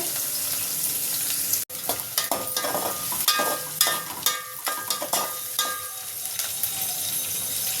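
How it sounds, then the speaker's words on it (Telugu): Onions fry in oil in a pan, sizzling loudly up close while repeated scraping stir strokes come in uneven bursts, with one sharp click near the start and no voices. "ఉల్లిపాయలు కొంచెంగా ఫ్రై చేసుకోవాలి, మాడిపోకుండా చూసుకోవాలి"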